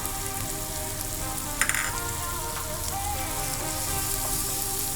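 Finely chopped onion and tomatoes sautéing in a pan give a steady, close sizzle with a brief burst of louder crackle partway through and no talking.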